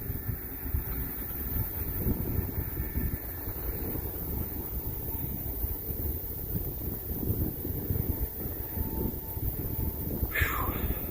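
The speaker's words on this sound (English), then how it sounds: "This wind is making it really cold." Cold wind buffets the microphone at an RC flying field, a continuous low rumbling gust noise that holds steady throughout, with a brief higher rustle near the end.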